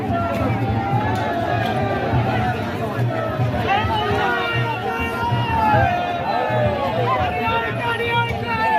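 A dense crowd fills a temple courtyard during the Khandoba–Mhalsa royal wedding festival, where turmeric is thrown. Many voices merge into a constant close babble and murmur, with individual people talking through it the whole time.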